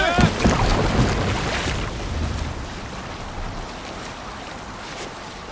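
A longship in Assassin's Creed Valhalla sails over waves, with a broad rush of water and wind swelling loud at first and then easing to a steady wash; a voice calls out briefly at the start.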